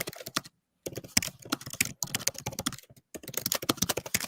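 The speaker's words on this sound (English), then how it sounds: "When I hear your keyboard, I think of cat." Fast typing on a computer keyboard, close and crisp, in rapid bursts of key clicks separated by short pauses.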